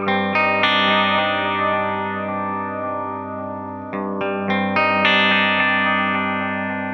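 Guitar delay pedal such as a Nemesis pushed into oscillation, sustaining dense, dark, reverb-like layered tones with a few sharp re-triggered bursts partway through; loud, continuous and alone.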